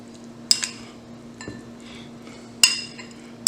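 Corn relish with parsley and olive oil being mixed in a bowl, a spoon clinking against the dish in three or four sharp, close taps spread over a few seconds amid soft scraping.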